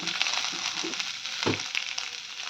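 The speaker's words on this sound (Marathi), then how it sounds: "अशा तेलामध्ये आपण परतून घेणार आहोत." Mixed vegetables sautéing in hot oil in a pan, a dense, close hiss of frying with a soft scrape or stir partway through.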